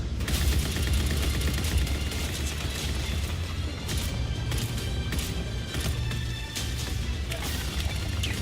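Sustained gunfire from a PlayStation game trailer, dense bursts of shots and booms rolling on continuously at high volume for the whole stretch, with no talk over it.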